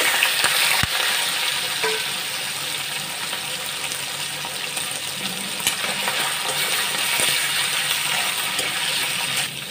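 Chicken pieces added to a hot frying pan, a sustained close crackling sizzle of oil with a few sharp metallic clinks of the utensil, steady throughout.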